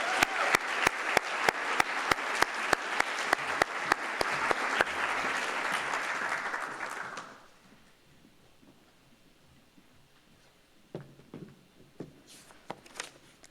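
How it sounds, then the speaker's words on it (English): A youth recognition awards audience in Thousand Oaks gives dense, steady applause with a clear rhythmic clap pulse, then fades out around the middle, leaving near silence broken by a few faint knocks and rustles. "Let's give a warm round of applause for this amazing teen volunteer."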